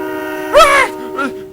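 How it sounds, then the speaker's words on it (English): A diesel engine train honks its horn in fright while tearing into a railway yard, two loud horn blasts, the first longer and the second shorter, over a steady low hum. "to see Mavis tearing into the yard, honking her horn in fright"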